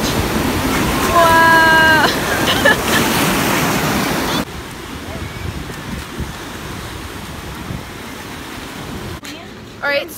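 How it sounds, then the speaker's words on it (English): Ocean waves wash onto a beach before a storm, a steady broad roar of surf with wind, with people talking at first before the rushing water carries on alone. "And then the waves make over there, and then the normal waves come, and then they meet in the middle."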